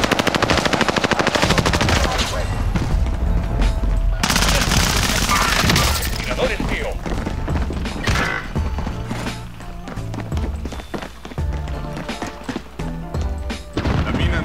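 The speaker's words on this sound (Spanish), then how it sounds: "Están disparando." Rapid automatic gunfire and scattered shots in an online shooter game, loud and nearly continuous, with bursts of impacts and explosions layered under game music and occasional voices.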